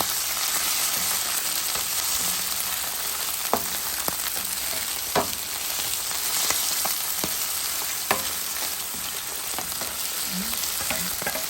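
Mussels sizzling in a pan with onion and garlic for a chayote dish give a steady, close frying hiss, broken by a few clinks of a spoon stirring, with no voices.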